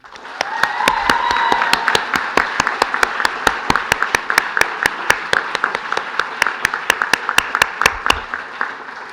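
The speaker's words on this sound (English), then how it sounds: "I really would like to have a second round of applause for all the families and friends who have been supporting throughout our studies." Applause from a graduation ceremony audience honouring families and friends, a loud crowd wash that thins into distinct rhythmic claps continuing steadily throughout.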